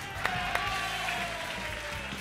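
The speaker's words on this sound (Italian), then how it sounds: "Fate un applauso a Paolo." Steady applause from a crowd of students at a school quiz game, clapping continuously for a contestant, with a couple of sharper claps standing out near the start.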